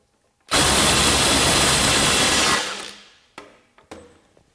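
Ryobi P262 One+ HP 18V half-inch impact wrench, rated 600 ft-lbs, hammering against a stubborn fastener: about two seconds of loud, dense, continuous rattling close by, then it cuts off and a few faint knocks follow.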